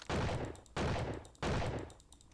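Three loud, evenly spaced gunshots in a video game, each a sharp blast with a short rumbling decay, fired close by with no talk.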